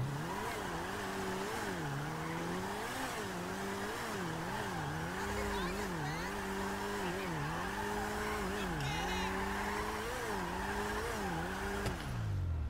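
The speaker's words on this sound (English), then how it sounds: "I want to show you the donuts as well" A car spinning donuts in a driving game, its engine droning in wavering rises and falls while tires squeal continuously throughout, ending with a sharp drop in pitch.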